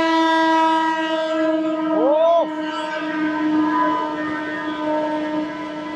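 The Howrah–Mumbai Mail 12321 stands at Bhabua Road station in Bihar. A steady tonal drone holds throughout, broken midway by a short, rising horn-like blast.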